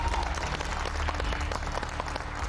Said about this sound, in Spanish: Un aplauso para Luis, nuestro regidor.